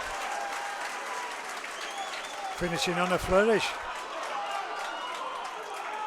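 A crowd cheers and applauds at a rugby league match between Newcastle Thunder and Wakefield Trinity in the 1895 Cup, a broad roar that swells midway while a commentator talks over it.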